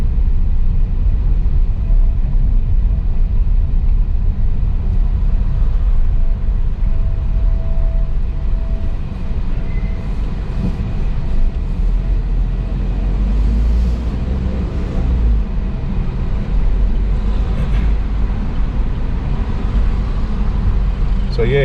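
Car driving through central Sofia, Bulgaria, with a steady low engine and road rumble held close throughout and faint city traffic around it.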